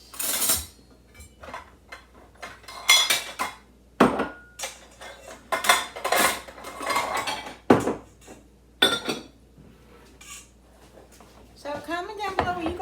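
Dishes and cutlery clatter and clink in a home kitchen as they are put away, a run of sharp, close knocks and rattles at an uneven pace, with a person talking in between.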